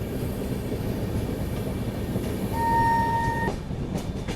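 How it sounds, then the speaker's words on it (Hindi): Visakhapatnam Express passenger train moving near Varanasi, a steady rumbling roll of wheels on track with a brief two-tone horn blast partway through, followed by faint clicking from the rails. "फिलहाल हमारी ट्रेन निकल रही है पंडित दीनदयाल उपाध्याय रेलवे स्टेशन की तरफ।"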